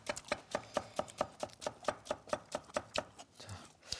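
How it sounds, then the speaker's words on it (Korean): A knife cuts a seeded cucumber into thin matchstick strips on a board, about eighteen quick, even taps in steady rhythm, close and fairly quiet with no talking. "부재료들을 다 날치알처럼 이렇게 썬다고 생각하시면 될 것 같아요"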